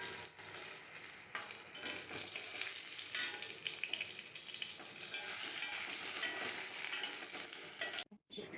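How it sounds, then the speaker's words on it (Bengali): Eggplant fries in hot oil in a home kitchen, a dense continuous crackling sizzle close up with faint spatter variation, cutting off briefly near the end before resuming. "বেগুনটাকে একটুখানি লাল করেই ভাজবো।"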